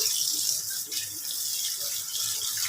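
Raw chicken joints washed under running water in a kitchen sink, giving a continuous close splashing and gushing stream with faint handling sounds underneath and no talking.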